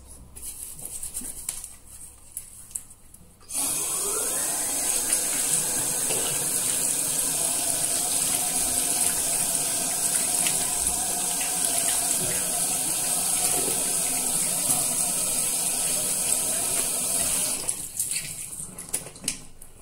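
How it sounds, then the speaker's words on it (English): Tap water runs steadily into a sink while someone washes their hands, a continuous hiss and splash that starts abruptly, holds for about fourteen seconds, and then cuts off, leaving quiet room sound before and after. "Let me wash my hands."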